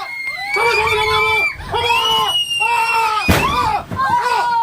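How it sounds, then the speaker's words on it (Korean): An unmanned track vehicle standing still is rear-ended by a following car, with a sharp impact bang amid loud, sustained screaming from children aboard. "멈춰있던 무인 궤도 차량을 뒤따르던 차량이 들이받는 순간"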